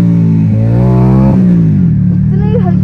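A 70cc motorcycle fitted with an aftermarket exhaust revs in a narrow street, loud and close, its engine note rising and falling through a few quick throttle blips.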